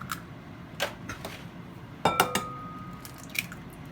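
Eggs cracked into a bowl for custard: a few quiet taps early on, then a cluster of sharp clinking cracks against the bowl midway, with one more small knock near the end.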